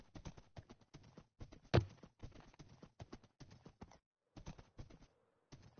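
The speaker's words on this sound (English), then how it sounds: "Oh, there's more horses over here." Horses in a Minecraft survival world near a woodland mansion make quick clip-clop hoof taps in uneven bursts, with one louder thump, a short pause, then more steps.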